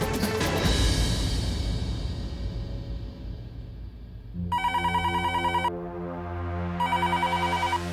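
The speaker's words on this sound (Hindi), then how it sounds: "कब से फोन बज रहा है, कोई उठाता क्यों नहीं?" A telephone bell rings unanswered indoors, its bright repeated trills arriving in two clear bursts over a low background hum and scattered noise.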